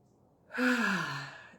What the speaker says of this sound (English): As soon as I open my mouth, I'll yawn.